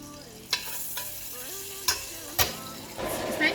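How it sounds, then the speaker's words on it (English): Red oil for okra soup crackles in a pot, with a sizzle building toward the end and a few sharp clinks of a utensil against the rim. "Guys, it's time to add in our oil."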